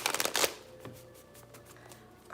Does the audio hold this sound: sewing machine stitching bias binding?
no